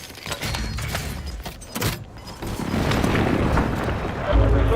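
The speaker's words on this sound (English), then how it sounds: "Enemy precision airstrike." Enemy precision airstrike explosions in a shooter video game land as deep booms and rumbling blasts, with a sharp hit partway through, then a sustained heavy low roar building toward the end.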